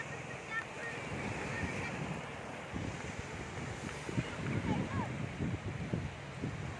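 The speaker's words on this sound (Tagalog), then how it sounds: "dagat dito, malinis pa" Sea waves wash onto the clean white-sand shore of Binmaley beach, a soft continuous surf under gusty wind buffeting the microphone, with faint voices nearby and a slightly louder swell near the end.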